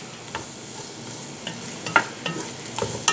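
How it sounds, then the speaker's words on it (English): Food stir-frying in a hot pan for a sari sari recipe, a steady soft sizzle with scattered clinks and scrapes of a utensil stirring, close and moderate. "this is kind of a stir fry section of making the recipe"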